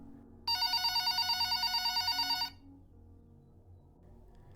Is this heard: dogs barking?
no